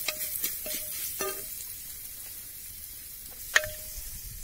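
Chillies and ground cumin and coriander hit a hot pan for herbal rasam, giving a quiet, steady sizzle with a few sharp clinks of a spoon stirring.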